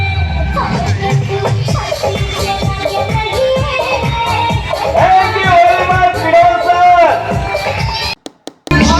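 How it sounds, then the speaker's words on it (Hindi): A dense crowd is gathered at the Haryana International Film Festival waiting for celebrities to arrive, a loud close babble of many voices with shouts and cheers that stays continuous before briefly cutting out at the end. "गाइस आप लोग सोच रहे होंगे यहाँ पे इतनी भीड़ क्यों है"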